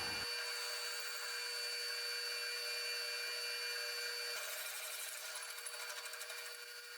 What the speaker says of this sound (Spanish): vamos a realizar una perforación con broca de 3/4